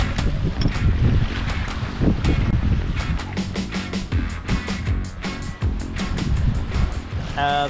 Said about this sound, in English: Absolutely gorgeous sailing.